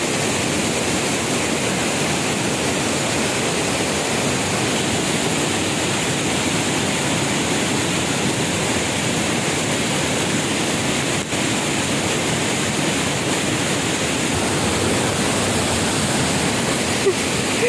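A waterfall swollen by a sudden flash flood roars in a dense, unbroken rush of water, loud and constant throughout.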